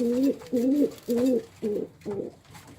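Pigeons in a loft give five soft, rhythmic coos in close succession, each a low warbling call, heard up close with a little background murmur.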